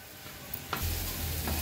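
A utensil scrapes through mushrooms in a pan, and the sizzling swells louder partway through as the stirring continues.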